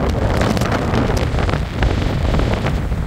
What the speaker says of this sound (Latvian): Katrā ziņā jūra izskatās, ka tomēr atkāpjas, lai gan vējš ir stiprs.